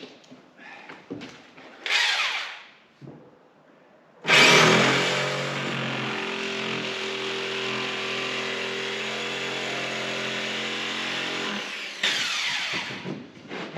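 Corded power tool cutting out a panel for a boat's seating area: scattered handling clunks, then a loud close whine starts abruptly and runs steadily for about eight seconds before cutting off.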